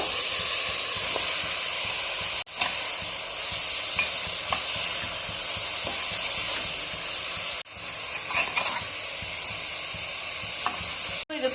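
Tomatoes fry in hot coconut oil for a goat head gravy, giving a steady, close sizzle and hiss with occasional stirring scrapes, broken by two brief pauses.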